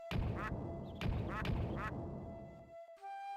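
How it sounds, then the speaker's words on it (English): A duck in the video game Shenmue II gives three loud, nasal quacks in a steady rhythm, close and clear, then stops and a short electronic chime follows. "Duck in the tree."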